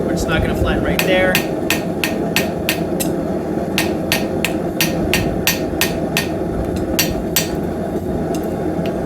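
Rapid, bright metallic hammer blows from a small hammer flattening a forged Celtic hair pin ring out close by, coming in quick bursts with brief pauses, over a steady low hum.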